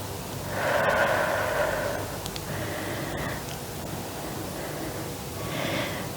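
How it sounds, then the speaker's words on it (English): Slow deep breaths during a prenatal Pilates stretch, soft drawn-out inhales and exhales at close range against a quiet room hiss. "Take a few nice deep rounds of breath here."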